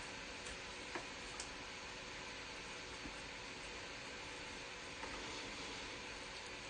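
A computer fan right beside the microphone roars with a steady, loud broadband whoosh, much like a jet taking off, and it holds constant throughout with a few faint ticks on top.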